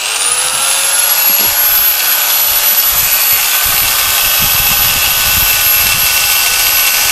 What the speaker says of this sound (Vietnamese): đây chạy vào tiếng và tải cho anh chị nghe